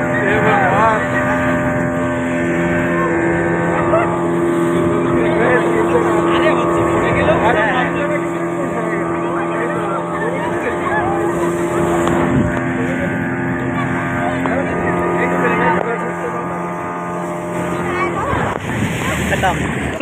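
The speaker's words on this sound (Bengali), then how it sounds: "তো এই ছিল বোট রাইডিং দীঘায়।" A speedboat at Digha beach drones steadily up close, its engine hum holding a constant pitch with wind and water noise throughout, while people talk and exclaim over it.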